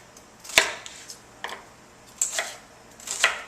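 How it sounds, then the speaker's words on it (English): A knife chops a peeled shallot finely on a board, giving a handful of sharp, irregular taps spaced apart, close and crisp, with no talking. "we're going to peel the shallot quickly, and then we're just going to chop it really fine"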